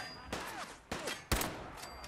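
A gun fires in the Fallout 4 video game with three sharp, distinct shots spaced a bit over half a second apart, each one louder, and the last one has a heavy punch. Each shot is followed by a short echoing tail.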